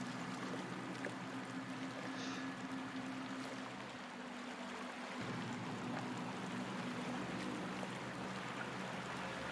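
A rowing boat crosses a lake in the horror video game Outlast 2, giving a steady wash of water noise that holds near and constant throughout, with no talk.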